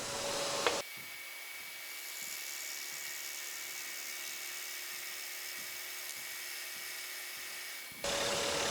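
Woodworking tool cutting wood for a crescent pen holder: a steady high whine with a rhythmic pulsing grind as the cutter works through the wood, starting and stopping abruptly, no talk.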